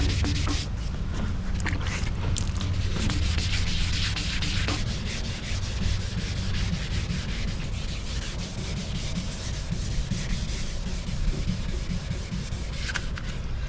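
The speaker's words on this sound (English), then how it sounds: "So I'm just barely just rubbing it off like that just to flatten it." Wrinkled spray paint on a car body is rubbed flat by hand, making a continuous, close, rhythmic scratchy sanding noise that holds steady for the whole stretch without speech.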